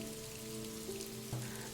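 Constant rainfall patters in a thick, unbroken wash over a soft held musical tone, close and uniform, with no one speaking.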